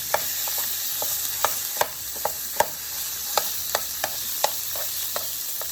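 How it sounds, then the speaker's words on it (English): Ground pork fries in canola oil in a pot, giving a steady bright sizzle with a spoon stirring and tapping the pot every half second or so, close and fairly loud. "we're going to kind of fry up our ground pork"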